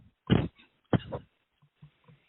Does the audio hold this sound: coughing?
yes